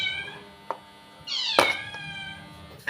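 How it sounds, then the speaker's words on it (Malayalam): A domestic cat meows several times nearby in a kitchen, with one long, rising and falling cry in the middle, a short call after it and faint knocks around them. "പൂച്ച വന്ന് കരയുന്നു."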